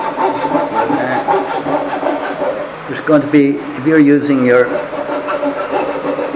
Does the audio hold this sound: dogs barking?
no